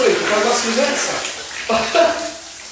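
Water gushes from a tap in New York in a steady splashing rush, with a brief surge near the end, while people talk over it.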